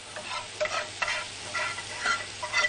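A whisk or spoon stirs roux into milk in a pan for béchamel sauce, giving soft irregular scraping and sloshing strokes over a faint bubbling simmer, close and fairly quiet.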